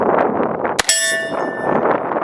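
A single shot from an LWRC SMG-45 .45 carbine with a 16-inch barrel, fired outdoors: one sharp, loud crack followed by a bright metallic ringing that fades over about half a second.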